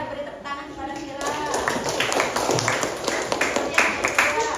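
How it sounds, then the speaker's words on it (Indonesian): Classroom students clapping for a classmate, quick scattered claps building into a steady patter after a teacher's voice, with talk mixed in. "beri tepuk tangan kepada Mira"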